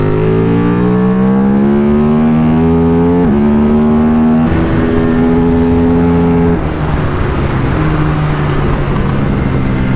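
A KTM RC 8C race motorcycle, 142 kg and 135 bhp, accelerating loudly out of a corner with its engine pitch climbing steadily through gear changes, close and alone without talk.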